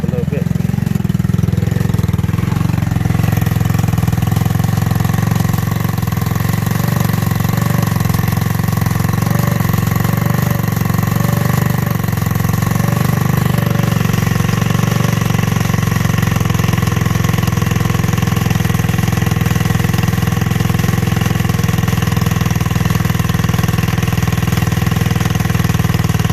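A Tao Tao Racer engine runs steadily at a loud, even idle for a long stretch after its carburetor mixture has been adjusted, with a low buzzing hum throughout.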